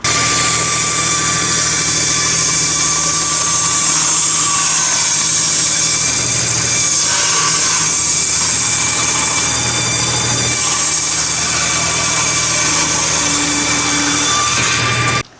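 A power saw cuts wood for a dinghy thwart, running loud and close with a constant high whine. The pitch shifts slightly as it bites through the board, and it stops abruptly at the end, with no voices.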